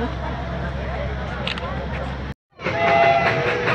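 Toy train passing at Batasia Loop in Darjeeling, a loud steady rumble of carriages running close by with a brief dropout, while people talk over it.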